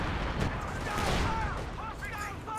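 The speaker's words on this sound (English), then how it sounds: "Air artillery coming down." An air artillery strike in the World War II strategy game Company of Heroes 2, a loud, dense rumble of blasts and crackling impacts sustained throughout, with whistling tones rising near the end.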